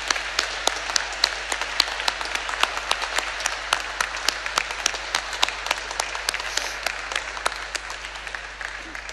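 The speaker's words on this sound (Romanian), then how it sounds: "Îi aplaudăm!" A congregation applauds during a solemn All Saints Mass in the cathedral of Iași, with distinct individual claps ringing out in a reverberant space over a steady background of clapping.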